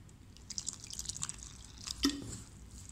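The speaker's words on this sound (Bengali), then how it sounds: "এখন আমি পানি দিব অল্প অল্প করে।" Small trickles and drips of water fall into a bowl of potato chop batter, a few soft splashy drops and one brighter plop near the end, quiet and close with no voices.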